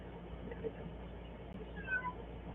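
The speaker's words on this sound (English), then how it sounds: "What, kitty? What is it, Bubba?" A pet cat meows softly indoors, a short plaintive call rising near the end, faint under a steady low room hum with no talk.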